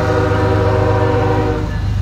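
A loud, heavy rumble of a CSX manifest freight train led by locomotive 767 passing close by, with steady low droning tones and no voices.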